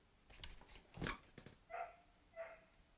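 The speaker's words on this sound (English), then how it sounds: "Sorry about my dog barking in the background." A dog barks faintly in the distance, a few scattered barks followed by two higher yelps, with nothing else going on.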